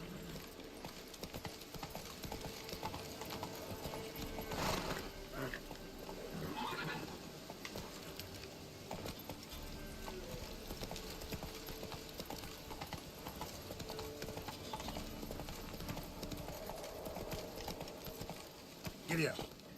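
Horse hooves clip-clop in The Witcher 3, a steady rhythmic gallop running the whole stretch alongside game music and ambience, with a brief whinny-like burst, and a voice talking over it.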